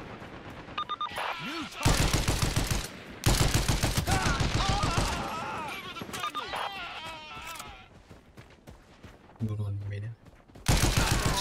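Loud bursts of rapid gunfire from a Patriot Scout rifle in a PvP shooter video game, with sharp shots in clustered volleys separated by brief lulls and voices talking between them.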